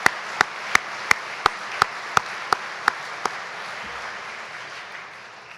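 Applause at an eagle dinner event: a dense crowd clapping with about ten sharper claps standing out over the steady wash, the applause tapering off toward the end.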